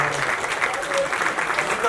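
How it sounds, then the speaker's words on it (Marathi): A studio audience at a Marathi television show claps loudly and steadily throughout, a dense wash of applause with some crowd voices mixed in. "त्यांच्यासाठी एकदा जोरदार टाळ्या"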